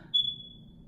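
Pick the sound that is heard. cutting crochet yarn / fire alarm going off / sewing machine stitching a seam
fire alarm going off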